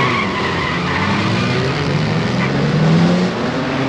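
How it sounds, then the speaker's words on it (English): Saloon racing cars, including a Chevrolet, a Sunbeam and a Riley, skid and roar through a bend at the Crystal Palace circuit, a loud continuous tyre-and-engine wash with a rising squeal near the end. "Peter Harper, Sunbeam, competitors in the Saloon Car Event"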